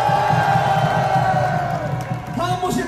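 A crowd at an outdoor patriotic rally in Seoul cheers and claps, a dense roar of voices and applause over a droning amplified background, fading slightly before an announcer's voice cuts in near the end.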